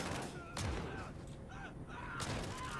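Adir's rifle fires in Call of Duty Modern Warfare with a couple of sharp shots over a dense, noisy battle background, muffled and fairly quiet.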